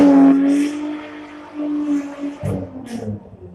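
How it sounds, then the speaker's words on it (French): A Ford Mustang V8 rumbles nearby, with a steady low engine note that swells into a throaty rev before settling. It is heard outdoors and moderately loud, with no talk over it. "Est-ce que vous entendez? C'est une Ford Mustang."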